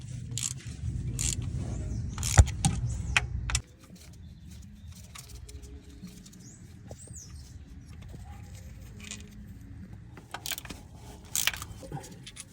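Transmission bolts are worked loose and removed from underneath a jacked-up car during a clutch job. Scattered metallic clinks, scrapes and tool rattles sit over a low rumble that drops away partway through, then sharper clanks return near the end.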